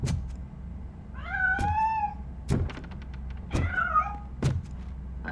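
A cat meowing in the game Robocop: Rogue City, two clear rising-falling meows a couple of seconds apart, set between heavy thudding footsteps over a low hum, no speech.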